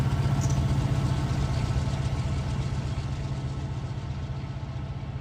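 Several diesel locomotives in Run 8 Train Simulator v3, working at Barstow Hump Yard, hold a steady deep engine drone with a low rumbling throb that stays even and loud throughout.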